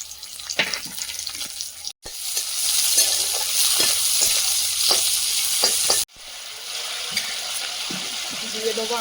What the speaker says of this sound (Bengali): কড়াইতে দিয়ে দেবো আবারও তেল, সামান্য তেল দেবো। পেঁয়াজ কুচি,